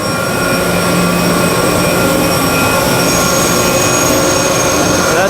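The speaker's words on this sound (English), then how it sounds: "I'll show you on the other blower that's online." An industrial blower runs online in a plant, giving a loud, close, steady roar with high whining tones that holds unchanged throughout.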